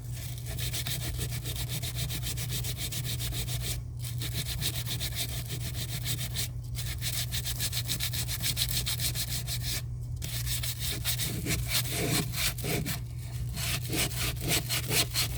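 Rhythmic back-and-forth rasping of sandpaper on wood, close and steady, with brief pauses between runs and a low hum underneath.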